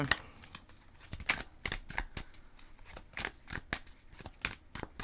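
Tarot cards are shuffled by hand in quick riffling bursts, crisp papery flicks and snaps repeating in an uneven rhythm, close and clear with no voice over them.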